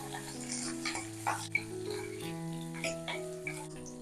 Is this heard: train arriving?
no